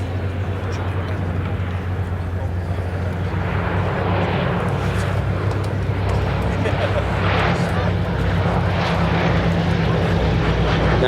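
Loud, steady drone of a B-17G Flying Fortress's four piston propeller engines coming in to land at an airshow, a continuous low rumble and roar that persists throughout.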